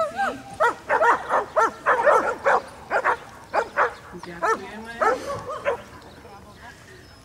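Rescue dogs at an obedience demonstration bark repeatedly in quick, excited bursts, several loud close yaps with whimpering in between, and a person briefly speaks near the end.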